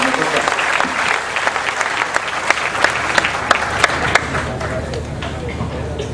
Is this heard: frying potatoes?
no